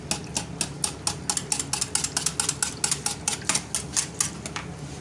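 A hand beater whisking yogurt in a bowl, producing a quick, regular series of rattling clicks and scrapes against the sides, close and moderately loud, with no talk.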